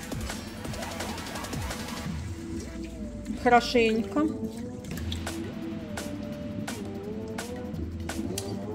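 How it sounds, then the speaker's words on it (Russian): Water runs and splashes over rice in a bowl, a gentle continuous trickle and slosh, while someone speaks briefly in Russian over it. "Промываю его водой."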